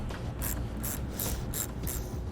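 Ratchet working a 10mm nut off a car battery terminal, making several evenly spaced clicking bursts over a steady low background hum, close by, with no talking.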